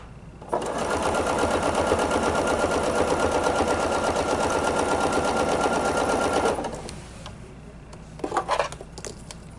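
A sewing machine stitches a table runner with ruler work in one long, rapid, even run of about six seconds, then halts, followed by a few light clinks and clicks.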